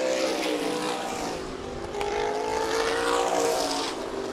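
Supermodified race cars roar around Meridian Speedway in a steady, loud engine drone, a car passing near the middle, with no talk over it.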